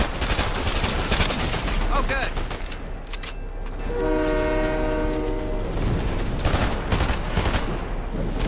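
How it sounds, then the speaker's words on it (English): A loud, sustained two-tone train horn blares in a video game as a passing train rumbles over dense gunfire-like bursts and game noise, with voices faintly mixed in. "I'm probably gonna hop on this train, dude. Choo-choo, here comes the train."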